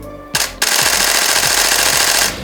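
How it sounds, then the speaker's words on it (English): Camera set to high speed continuous drive fires a rapid burst of shutter clicks, loud and close, blending into a dense, steady mechanical rattle for about two seconds. "if you change your drive to high speed continuous, it will sound something like this"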